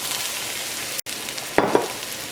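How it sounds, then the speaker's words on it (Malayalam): Onion with crushed ginger and garlic sizzle and crackle steadily in hot coconut oil, with a brief dropout and a couple of stirring clatters partway through. "ഈ ചൂടായ വെളിച്ചെണ്ണയിലേക്ക് സവോളയും പിന്നെ ചതച്ച് വെച്ചേക്കണ ഇഞ്ചിയും വെളുത്തുള്ളിയും ചേർക്കാം"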